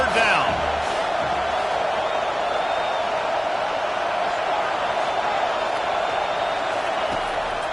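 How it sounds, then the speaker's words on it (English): A home crowd at a football game roars in a steady, loud wash of cheering and noise on a third down, sustained without a break under a commentator's voice. "Here comes this home crowd as the defense tries to get off the field on 3rd down"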